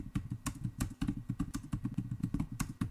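Rapid, steady clatter of keys on a computer keyboard, heard close while a message is entered, with dense keystrokes running continuously for the whole stretch and no talking.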